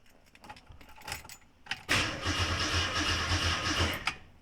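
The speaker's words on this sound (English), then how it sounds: "so the car is turning over." A car engine cranks over with a rhythmic churning whir after some clicks and rattles, turning steadily for a couple of seconds without catching, then stopping, during a Dakota Digital gauge install.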